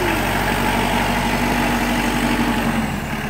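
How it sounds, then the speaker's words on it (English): A tractor engine idles steadily and close by, a continuous low mechanical drone with constant vibration and no speech over it. "Briggs and Grandpa getting the tractor work."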